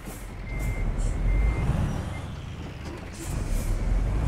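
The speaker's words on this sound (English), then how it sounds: "This truck sounds badass, by the way. This is a new truck sound." Heavy truck engine rumbling steadily in Euro Truck Simulator 2, with faint repeated reversing beeps and a hiss of air brakes over the loud low drone.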